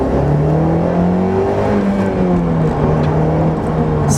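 A car fitted with a ram air intake accelerates hard after an upshift from second to third gear, its engine drone loud and close and climbing steadily in pitch for several seconds.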